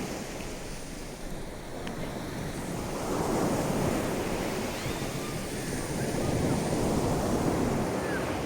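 Ocean surf rolling in at South Beach, Miami, a broad steady wash of breaking waves with wind rumble on the microphone, swelling louder midway and holding on, with no voices.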